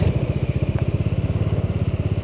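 Close, rapid, evenly pulsing exhaust burble of a Bajaj Dominar 400 motorcycle engine braking downhill, a steady rhythmic throb with no talk.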